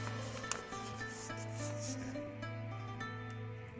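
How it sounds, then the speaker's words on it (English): A paper flap folded down while making an origami cube gives soft rubbing and creasing sounds, steady and close, over a faint tonal hum with no talking. "Afterwards, you want to take this flap and fold it downwards."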